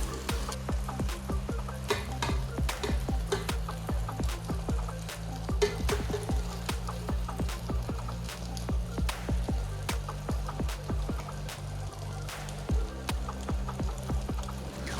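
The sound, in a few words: stir frying rice with vegetables in a pot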